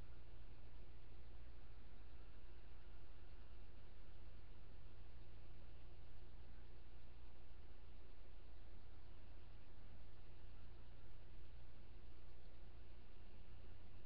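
A rebuilt tattoo machine fitted with new springs and an arm bar hums steadily and continuously, a dense even buzz with a low drone underneath, close and unbroken for the whole stretch with no talking.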